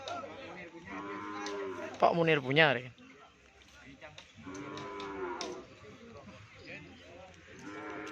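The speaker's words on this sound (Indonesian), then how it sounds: "Dengan sapi yang latihan." Cattle moo at a cattle training session with a crowd gathering, one loud, close moo rising and falling, then a longer, softer low later, while someone talks nearby between the calls.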